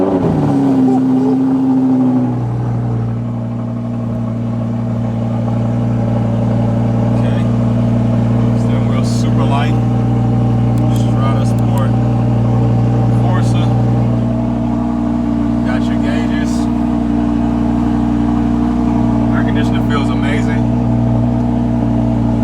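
A Lamborghini Huracan's engine starts and then holds a loud, steady rumbling idle close by, heard from outside the car, with a few brief rises in pitch as it revs.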